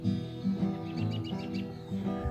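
Birds chirp and tweet faintly in the distance over a low steady hum, with a few scattered calls.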